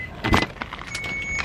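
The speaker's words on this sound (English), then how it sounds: "let's go to turn the car on" Keys jangle in a short metallic burst, then a few lighter rattles follow near the car on a slippery icy day, with a faint steady high whine underneath and no talking.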